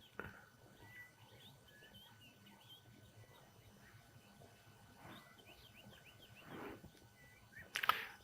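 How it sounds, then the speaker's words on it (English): Faint bird calls in moist Eastern Cape grassland, scattered chirps and whistles far off over a quiet outdoor background, with a sharper call near the end. "The birds calling."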